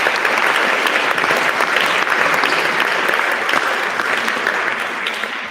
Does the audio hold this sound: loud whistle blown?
no